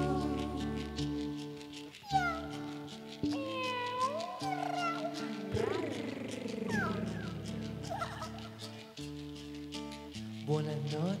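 A cat meows and caterwauls repeatedly, drawn-out wavering cries in close succession over a musical backing, with some voice-like vocal sounds mixed in.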